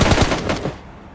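Rapid automatic gunfire from the mobile battle-royale game PUBG Mobile Lite, a loud burst of several quick shots that trails off into a fading echo.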